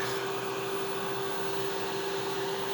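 A splash pump keeps running steadily with no feed, a constant close mechanical whir and buzz with a strong steady hum, unchanging and uninterrupted.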